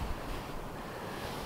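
Blustery wind rushing steadily over a lake shore during carp fishing, a continuous low roaring buffet with gusts thumping the microphone, no voices.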